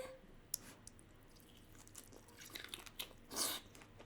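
Biting into and chewing kimchi ramen with lobster tail, heard as a few soft, close, wet bites and squishy chews, faint and mostly alone, with a slightly louder crunchy chew near the end.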